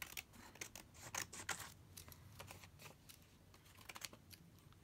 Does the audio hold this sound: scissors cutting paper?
yes